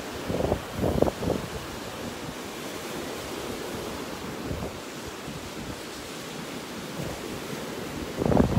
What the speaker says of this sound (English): I love watching those waves out there.